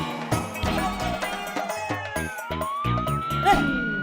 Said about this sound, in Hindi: ये बापूजी सायरन की पुलिस जीप है।